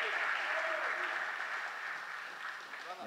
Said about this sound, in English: Let's get a absolutely loud, loud round of applause for Mr. Max Jimenez, you guys.